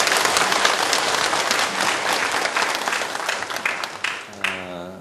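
Congregation in a church claps together, a thick wash of applause that holds steady for several seconds, then thins and ends as a voice begins speaking.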